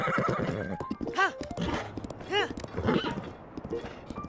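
Two bright horse whinnies ring out over a busy bed of hoofbeats and game-like ambience in The Legend of Zelda: Breath of the Wild, the second following about a second after the first.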